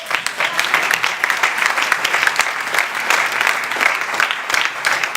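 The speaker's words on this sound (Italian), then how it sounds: "a questo punto me la faccio io da solo l'applauso" A theatre audience applauds at the end of a play's third act, with brisk, dense clapping that holds steady for several seconds.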